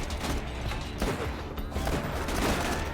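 Revolver shots fired in the video game Borderlands 2, a dense run of gunfire bursts at around 1 s and later, loud over a busy game soundscape with no talk.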